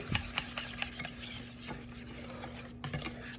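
Keto brownie batter is mixed in a bowl, a soft, steady wet stirring with light scrapes of the utensil against the sides, close and quiet, with no voices.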